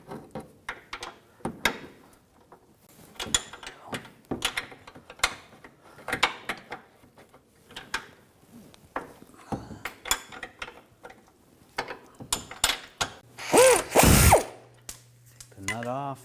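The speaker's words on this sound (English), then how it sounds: "Using an 18mm wrench on the nut, 18mm socket, loosen up the bolt." A ratchet wrench with an 18mm socket loosens the control arm bolt on a 2006-2010 BMW 550i, giving repeated close clicking ratchet strokes in short runs, with louder mechanical clunks near the end.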